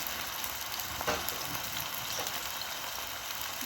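Ginger garlic paste frying with braised tomato in a pan for crayfish chutney, a steady, even sizzle holding at a constant level throughout with no talk.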